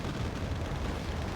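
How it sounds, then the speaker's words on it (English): Mi-8 MTV helicopters' 122mm rocket barrage exploding over troops in Wargame: Red Dragon, a dense continuous rumble of overlapping blasts with heavy low-end boom throughout, no talking. "The missiles coming in from these MI8 MTVs, 122mm rockets, going to spread carnage over those troops"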